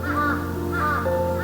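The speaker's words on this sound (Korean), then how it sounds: "산등성이 맴돌던 까마귀 떼의 울음소리" A flock of crows caws loudly near a mountain ridge, with two or three harsh, repeated calls close by over a steady low background.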